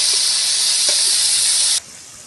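Fish pieces fried on both sides on a wood-fired clay stove give off a loud, steady hiss of sizzling oil that cuts off abruptly near the end, leaving a quieter background.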